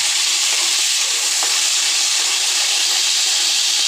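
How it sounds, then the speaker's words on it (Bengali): Chopped potato and capsicum fry in a pan with salt, giving a steady, close crackling sizzle that runs unbroken with no voices. "নুন দিয়ে ভাজবো সবজিগুলো"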